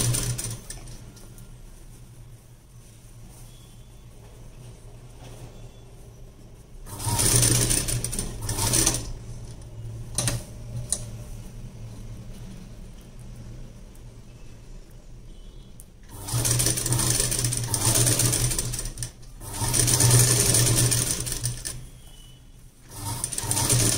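Sewing machine stitching an ari-work blouse runs in short bursts, with two long loud runs and a few brief stops between them, with quieter gaps and no talking.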